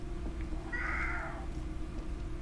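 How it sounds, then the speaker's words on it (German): A cat in the Disco Elysium video game gives a single drawn-out meow over a steady low background hum, with no speech. "Ach, Katze, ich habe doch jetzt keine Zeit für dich."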